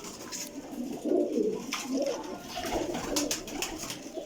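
Pigeons kept by a breeder coo softly in a continuous low murmur, several birds overlapping at close range, over faint background noise.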